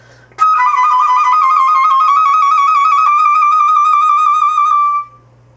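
Flute tremolo passage from the third movement of Ibert's Flute Concerto, played with trill-key fingerings: a sustained, rapidly shimmering solo tone lasting about four and a half seconds, close and clear with no accompaniment.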